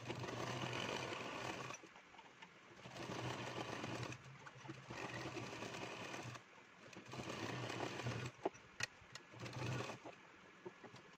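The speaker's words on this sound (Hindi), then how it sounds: "और अब यहाँ पर हम बीच की सिलाई लगा देंगे" A sewing machine stitches the centre seam of palazzo pants in several separate runs of steady whirring, each lasting a couple of seconds, broken by short pauses and light handling clicks.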